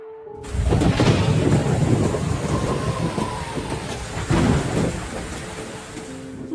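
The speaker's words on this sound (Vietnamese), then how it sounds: "Mưa rồi, và gió dường như càng ngày càng mạnh." Heavy rain and gusting wind build as a storm approaches, a loud continuous roar with deep rumbling surges, one swelling around the middle.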